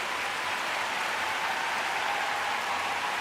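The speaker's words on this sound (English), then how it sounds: "They raised the energy in the crowd, they got them clapping." A crowd applauds at an ice dance free dance event at the Saitama 2023 world figure skating championships, with steady, dense clapping that fills the arena without a break.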